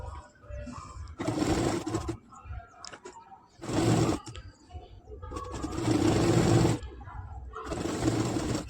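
A sewing machine runs a thin seam along slippery jubba fabric in bursts of steady whirring, several runs of a second or two separated by pauses, close and fairly loud.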